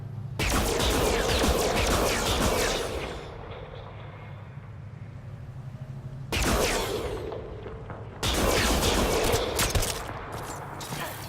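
Sustained bursts of sci-fi gunfire in a Mass Effect: Andromeda firefight, loud and dense for several seconds, pausing to a low rumble, then erupting again in two more heavy bursts with faint speech underneath.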